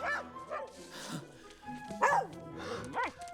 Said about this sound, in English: Snowy makes his heroic entrance and stares down the dog and barks so loudly, he barks him into submission